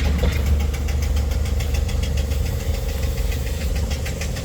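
A heavy steam traction engine chugs steadily up close at a steam fair with a regular knocking rhythm and a mechanical hum, running continuously without speech.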